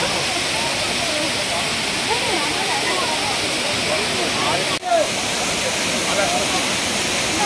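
A waterfall in the Ayodhya hills of Purulia roars as a loud, constant rush of water that fills the whole clip, with a brief dip near the middle.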